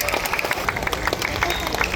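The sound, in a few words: applause for the deputy mayors and leaders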